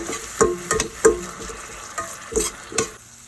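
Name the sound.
moong dal stir-fried in sizzling tempering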